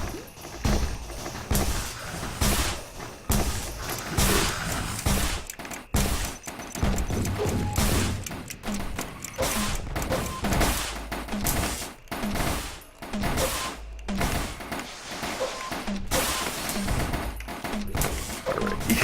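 Rapid missile barrages in the video game Risk of Rain, a dense, loud stream of overlapping bursts and blasts that keeps going without a break, with a faint voice now and then.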